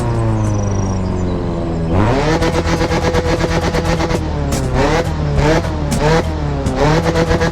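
Volkswagen Golf GTI 1800 four-cylinder engine in the video game The Crew Motorfest, idling briefly and then revving hard through repeated rising sweeps and gear changes, loud and close throughout.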